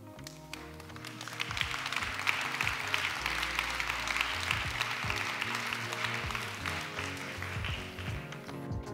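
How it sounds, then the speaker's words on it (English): An audience applauds steadily at the close of a talk on AI and content creation: a dense, sustained wash of many hands clapping that fills the whole stretch at even loudness, with a faint tonal layer underneath. "Thank you very much for your early applause."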